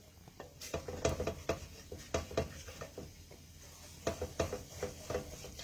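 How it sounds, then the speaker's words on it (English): Spoon stirring food in a pot while making croque monsieur, soft irregular scrapes and clinks against the pot sides, quiet and close in a calm kitchen with no one speaking. "So I'm just going to continue to stir."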